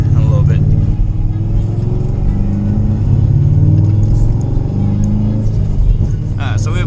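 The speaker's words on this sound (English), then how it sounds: "I'm gonna try to get onto the highway and then go for a rip, see how it does on that" A Chevrolet Corvette C6 Grand Sport with an LS3 V8 drives along with a loud, steady low rumble heard from inside the car, and a voice talks over the engine.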